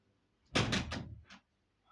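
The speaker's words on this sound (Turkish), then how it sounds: "Kapıyı kapatıp geleyim." A door is pushed shut indoors, a short burst of clattering knocks and a latch click in quick succession, fairly close and otherwise quiet.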